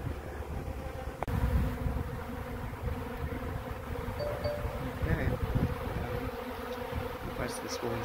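Honey bees at a feral hive give a continuous close buzzing drone, with some wind rumble and a brief knock near the start.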